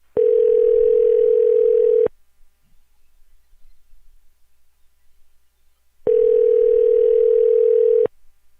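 Telephone dial tone sounding in two clean, steady bursts of about two seconds each, separated by a few seconds of near silence while a call is being placed.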